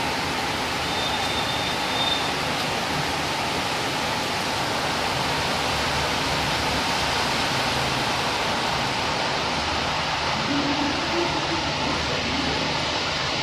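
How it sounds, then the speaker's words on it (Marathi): Heavy rain pours down in Pune, a constant, even hiss of falling water that fills the whole stretch without a break. "हे बघा काय पाऊस."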